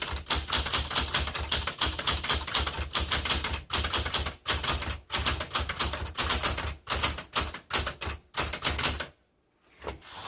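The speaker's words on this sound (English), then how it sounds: "This is an excellent typewriter." A 1977 Smith Corona Classic 12 manual typewriter is typed on at a brisk, steady pace, producing sharp, loud key strikes in a rapid rhythm with a few brief pauses, ending in near silence, with no talking.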